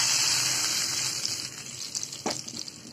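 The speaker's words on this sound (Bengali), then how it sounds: "এটা বাগার দিয়ে দিলাম" Hot onion tempering (bagar) poured over mixed vegetables in a pan, giving a loud, steady gushing sizzle that eases slightly before a short sharp crackle, with no talking.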